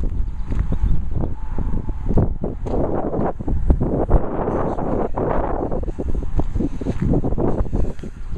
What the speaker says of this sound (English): it sure is windy out today